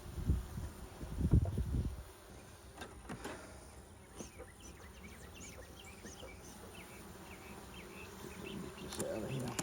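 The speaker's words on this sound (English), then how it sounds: "Yeah, there's some bees in there." Honey bees in an opened hive that is weak and sparsely populated, giving a soft, steady insect buzz. A low rumble of handling comes near the start, and the hum continues faintly through the rest.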